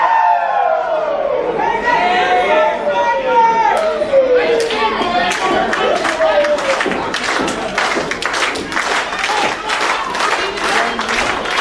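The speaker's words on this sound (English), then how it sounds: "The crowd fully behind John McChesney" A pro wrestling crowd chatters and cheers at a live show, with a steady roar, scattered claps and whistles, and a commentator talking over it.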